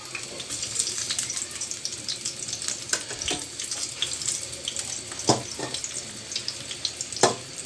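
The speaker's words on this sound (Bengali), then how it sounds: "তেলটা গরম হয়ে গেছে, এখন আমি এক এক করে বেগুনগুলো দিয়ে দিব।" Eggplant slices fry in hot oil in a frying pan, giving a continuous close, dense sizzling hiss with scattered small pops and crackles.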